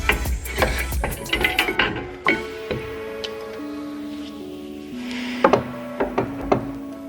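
A ratchet works on a 2024 Jeep Wrangler JL Rubicon full-float axle while the rotor and calipers come off, bursts of clicking and metallic knocks in irregular runs, close up with a brief quieter stretch between.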